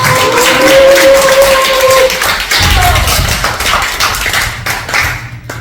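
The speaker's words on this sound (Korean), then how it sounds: "감사 박수 좀 부탁드리겠습니다" A church congregation bursts into applause, a dense, loud wash of clapping that follows a short spoken phrase and then tapers off toward the end.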